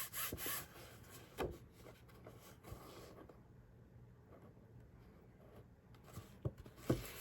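Folded paperboard box edge being burnished with a tool, a soft rubbing and scraping with a few sharper taps, close and fairly quiet.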